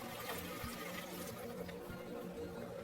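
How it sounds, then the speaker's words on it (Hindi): Roughly a glass of water poured into a cooking pot holding whole onions and turmeric while a dhaba-style mutton curry is prepared, giving a steady close, soft splashing and pouring wash throughout with no talk. "1 ग्लास के करीब पानी।"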